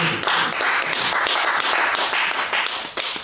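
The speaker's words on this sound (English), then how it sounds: "Give Jodie another round of applause" Dense, steady audience applause fills a poetry slam, many hands clapping together loudly and evenly before tapering slightly at the end.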